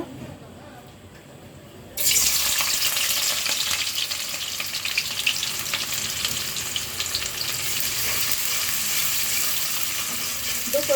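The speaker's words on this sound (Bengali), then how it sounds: "আমি পরিমাণ মতো তেল দিয়েছি। এখন পেঁয়াজ দিয়ে দিব।" Onions dropped into hot oil in a home kitchen for vegetable noodles, a quiet lead-in then a sudden loud, close sizzle that stays strong and continuous, with faint stirring underneath.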